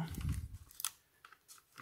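Adhesive tape peeled and torn away from a 1/24 scale Jada Optimus Prime toy model, giving a close crinkling rip at the start, then a few brief sharp crackles and tearing snaps.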